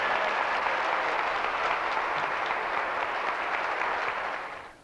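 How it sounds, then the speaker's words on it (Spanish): Church congregation applauding loudly, a thick, sustained wash of clapping that continues evenly throughout before tapering off at the very end. "Dale un aplauso al Señor"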